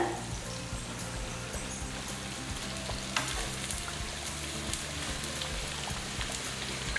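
Plantain bajji frying in hot oil, a dense, steady crackling sizzle with fine popping bubbles throughout, close and even, with an occasional utensil knock.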